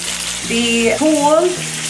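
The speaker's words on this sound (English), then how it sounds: "Put it in a pan, and I boil it." Canned fava beans boil in a pan on the stove, giving a steady close hiss and bubbling throughout, with a brief tonal, voice-like sound rising over it midway.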